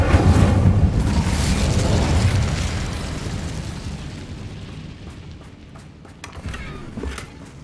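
An Incendio fire spell blasts in Hogwarts Legacy, a loud roaring burst that fades over several seconds into crackling, with a few sharp pops and a smaller thump near the end, no voices.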